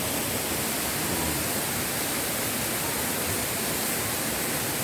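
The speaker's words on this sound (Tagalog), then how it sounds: "Yan ang tinatawag na Kanawan Falls dito sa Baler." Kanawan Falls in Baler, a waterfall in dense forest, pours as a steady, loud, broadband roar that fills the whole clip without pause.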